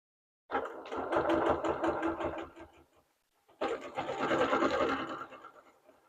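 A sewing machine stitches in free-motion ruler quilting on a Carolina Mingle quilt, two close bursts of rapid mechanical rattling separated by a pause of silence.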